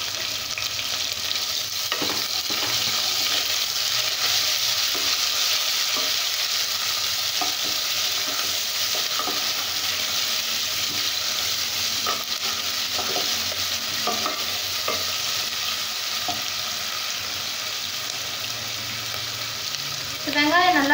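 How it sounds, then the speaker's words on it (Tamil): Onions with curry leaves and a little salt sauté in a pan, producing a continuous close sizzle with repeated scraping stirs throughout, a faint voice briefly near the end. "வெங்காயம் நல்லா வதங்கட்டும்."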